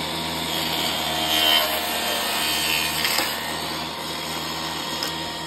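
Pallet wood boards having their ends sawn off: a steady close cutting rasp with a constant tool hum, swelling slightly midway and continuing without speech.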